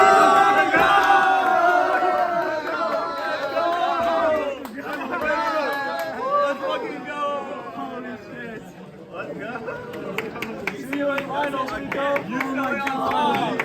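A crowd at an osu! gaming LAN event breaks into sustained cheering, shouting and applause that stays loud and dense throughout, with excited voices mixed into the noise.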